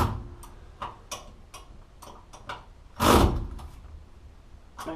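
A wrench torques the bolts of an upper ball joint on a 1973 Mustang, giving a series of sharp, close metallic clicks at an uneven pace, with one louder clunk midway.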